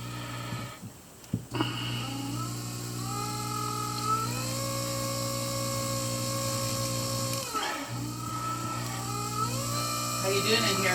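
A rotary tool buffs a Scutillaster major fossil echinoid with buffing rouge, giving a loud, continuous high whine that slides up and down in pitch. It drops out briefly twice as the tool comes off the fossil.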